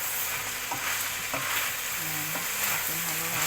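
Chicken liver, gizzard and heart sisig sizzles steadily in a pan while a utensil scrapes and stirs it in a few short strokes, close and continuous with no voices.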